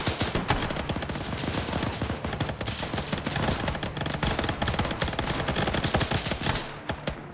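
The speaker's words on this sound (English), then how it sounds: "Every soldier in the camp focused fire on them to thin them out" Soldiers' massed gunfire at a camp in the Arma military game, a relentless close rattle of overlapping rifle and machine-gun shots that stays loud almost the entire time before easing at the end.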